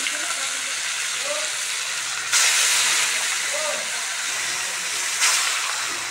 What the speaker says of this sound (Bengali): তেলটা গরম হয়ে গেছে, অল্প করে ভেজে নিই।